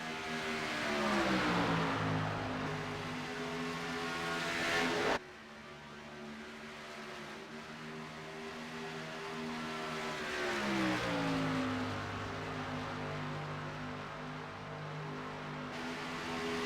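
A race car engine drones through a qualifying lap at Charlotte in a racing video game, revving high, dropping sharply at a gear change, then climbing again as the steady roar builds and shifts pitch.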